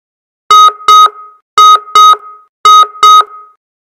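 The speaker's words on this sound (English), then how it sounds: "The notification has a different look, as you can see, and a specific alert sound." OmniVista Network Advisor's notification alert for a simulated DoS attack sounds as three pairs of sharp, loud electronic beeps, clean and evenly spaced with silence between, heard alone.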